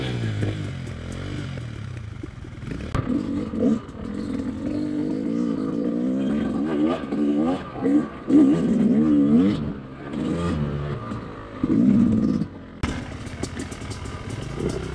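A Yamaha YZ250X two-stroke dirt bike on a trail revs hard and repeatedly, its engine rising and falling close by with clattering and scraping from the rough ground.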